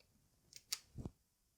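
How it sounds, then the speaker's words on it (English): Pop-up webcam on an HONOR MagicBook laptop springing up from a keyboard key: a few brief quiet clicks and a small mechanical snap, close and faint, with no talking. "The camera pops up from one of the keys"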